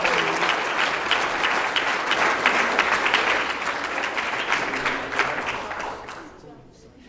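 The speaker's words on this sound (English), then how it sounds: "Let's give Adeline a round of applause." An audience at a school board meeting gives a student a loud, sustained round of applause that holds steady for several seconds and then fades out, with a few voices mixed in.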